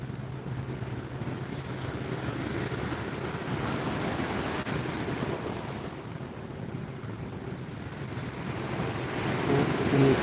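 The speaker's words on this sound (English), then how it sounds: "it's kind of noisy because of the waves" Ocean waves wash steadily against the shore in the Philippines, a broad continuous surf roar mixed with wind buffeting the microphone, rising slightly toward the end.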